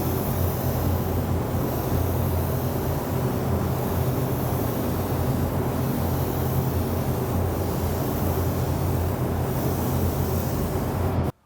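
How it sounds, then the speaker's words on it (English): Spray Gunner minigun spray gun spraying Autoborn sealer, unreduced, onto a helmet: a steady, loud, continuous hiss of air and spray lasting about eleven seconds and cutting off abruptly at the end. "what I'm going to do is use this little minigun here by Spray Gunner"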